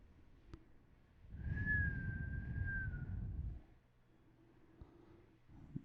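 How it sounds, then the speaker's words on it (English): A single sustained whistled tone, steady and slightly wavering, rises out of a quiet room and holds for about two seconds, backed by soft breathy noise, before fading to near silence. "Can you hear me whistling?"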